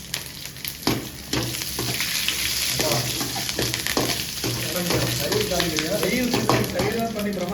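Potato gravy crackles and sizzles in hot oil, with sharp pops scattered through steady frying and faint talk in the background.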